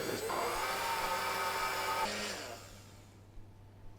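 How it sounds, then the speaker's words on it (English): A blender blitzing a seasoned pureed duck liver pâté mixture runs with a loud, steady whirring motor for about two seconds, then winds down and fades to quiet. "Then just blitz again for a minute or two."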